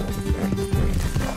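Horse hooves clopping with a whinny from a horse in the Red Dead Redemption 2 video game, close and fairly loud over a steady game background.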